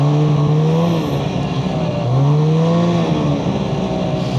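A loud snowmobile engine revving up and easing off on the throttle, droning close by with a rough, rattling buzz like plates rattling together as the pitch rises and falls, in bitter cold.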